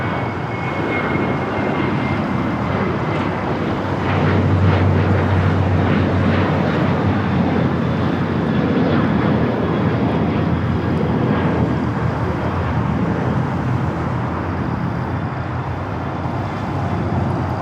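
An airliner takes off from runway 25 right at Los Angeles International Airport, its engines producing a loud, steady jet roar that holds throughout with a deeper rumble swelling briefly partway through.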